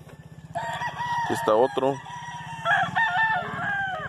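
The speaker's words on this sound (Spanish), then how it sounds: "Este tiene muy buena actitud también, este gallo" Roosters crow loudly and close by on a farm, several overlapping cock-a-doodle-doos over a rhythmic background clucking, while someone speaks briefly in Spanish.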